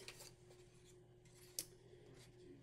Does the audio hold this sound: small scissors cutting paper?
yes